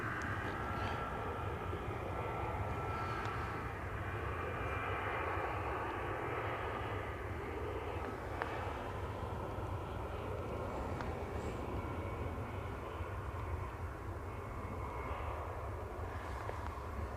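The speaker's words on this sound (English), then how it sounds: "That's a Finnair on its way back to Helsinki. A320." A Finnair Airbus A320 jet passes overhead near Manchester Airport, its engine roar a steady, broad rumble that holds evenly throughout, with faint clicks scattered on top.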